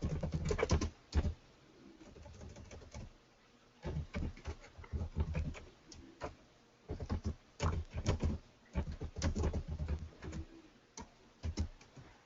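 Java code being typed on a computer keyboard in irregular bursts of quick clicking keystrokes, close and clear, with short pauses between runs.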